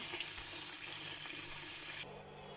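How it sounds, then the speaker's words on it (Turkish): Peppers being washed under a running kitchen tap, a steady hiss of flowing water close by that cuts off abruptly near the end, leaving a quieter room tone. "Evet şimdi biberlerimi bol suda yıkıyorum."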